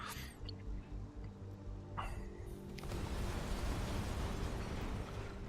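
Buildings are demolished in the Mars colony game Surviving Mars, a series of soft distant blasts followed by a rising, sustained rumble of collapse under the game's ambient tones.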